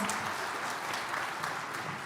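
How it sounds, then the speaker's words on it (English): An audience at a school band winter concert gives the parents a round of applause, a soft, even patter of many hands that sounds fairly distant and continues throughout. "Give your parents a round of applause"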